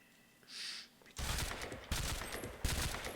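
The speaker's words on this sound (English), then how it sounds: "Where are you shooting me from?" Gunfire rings out in a VR-played video game run through vorpX, loud bursts of rapid shots starting abruptly after a brief tone, with several sharp peaks in quick succession.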